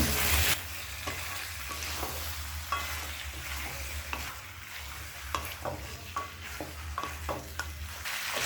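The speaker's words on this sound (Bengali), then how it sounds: "এবার এর মধ্যে ম্যারিনেট করা চিকেনটা দিয়ে দেব। এবার গ্যাসটাকে হাই ফ্লেমে রেখে 3 থেকে 4 মিনিট কষিয়ে নেব।" Marinated country chicken fries in ground spice paste over a high gas flame, with a loud, steady sizzle and a low burner rumble, punctuated by repeated scraping stirs and spatula knocks against the pan.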